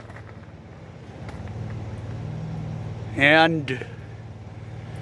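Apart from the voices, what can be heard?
semi truck Cat engine running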